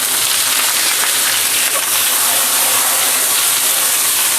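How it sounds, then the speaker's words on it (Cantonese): Choy sum greens hit a very hot wok after ginger and sizzle in a loud, steady hiss that fills the whole moment, close up and alone. "我哋而家落菜啦。"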